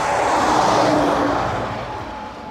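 Motor vehicle engine drone during a summer countryside bike ride near Surovikino, a steady broad roar with a faint tonal hum, loud at first and easing slightly as it recedes.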